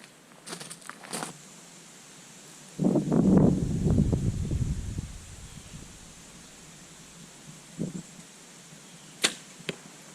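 Arrows shot from a Mathews bow sound as sharp thwacks: two or three quick releases near the start, a longer rustling whoosh in the middle, then a few more distinct snaps later, outdoors and fairly close.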